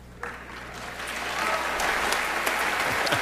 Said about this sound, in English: Enough applause.